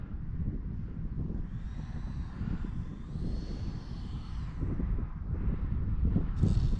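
A small E-flite Habu SS 50mm electric ducted-fan RC jet flies outdoors, its steady whooshing fan noise carried over low wind rumble on the microphone and rising slightly toward the end.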